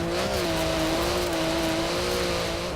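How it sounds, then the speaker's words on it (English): Porsche 959 rally car in Forza Horizon 4, its engine held at steady high revs with a loud, sustained, slightly wavering tone and no talk over it. "We're just trying to keep the RPMs up so we don't bog in second gear right there."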